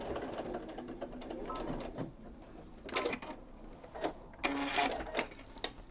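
A sewing machine runs in steady bursts while top stitching a pocket on a duffle bag, with its fast mechanical whir starting and stopping and a voice speaking over parts of it.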